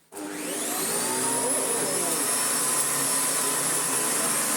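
A Hoover Decade 80 upright vacuum cleaner switches on at speed 1 and spins up to a loud, steady motor whine with a high tonal hum and airy rush, running continuously up close.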